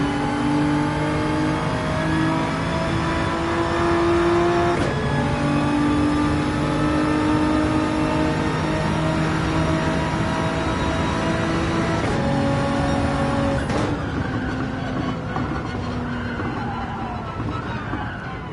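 A Nissan GT-R race car engine in Gran Turismo 7 on the Dragon Trail circuit drones loudly and steadily, its pitch climbing with each gear, dropping briefly at shifts, then fading near the end.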